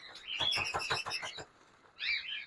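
Caged doves and small birds at an outdoor Sunday bird market in Islamabad give a quick run of bright chirps, a pause, then another short burst of twittering, fairly close with no talk.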